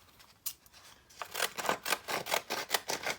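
Decal scissors snipping paper for journaling cards, a quick run of close, crisp rhythmic cuts that starts after a few isolated snips and builds into a steady series with no speech.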